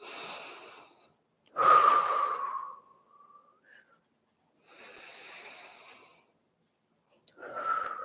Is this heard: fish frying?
no